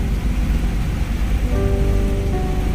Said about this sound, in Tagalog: malakas ng ulan mga tol